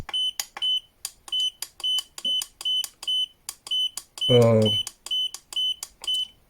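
A cheap portable spot welder gives repeated short high-pitched electronic beeps in a steady pulse after booting up, with a brief voice breaking in partway through.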